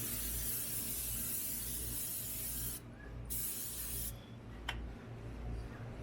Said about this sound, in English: Just going to spray with some palm just so it doesn't stick.